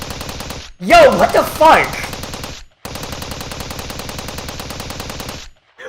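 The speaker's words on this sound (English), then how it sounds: "scream was cut off by the sound of gunfire" Rapid automatic gunfire bursts from the visual novel game Steins;Gate 0, loud and dense for most of the clip, broken by two brief silences, with a startled voice exclaiming over the shots near the start.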